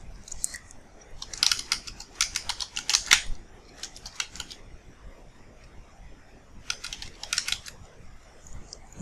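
Typing on a computer keyboard sounds as quick clusters of sharp, light key clicks in uneven bursts with short pauses, close and fairly quiet, with no talking.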